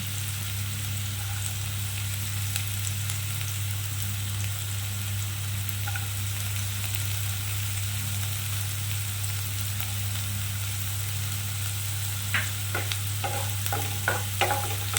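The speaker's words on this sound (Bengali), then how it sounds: "এক মিনিট দু মিনিট এইভাবে নাড়াচাড়া করব" A catla fish stew sizzles steadily in a pan, a constant close frying hiss with a low hum underneath, and a few sharp scraping stirs near the end.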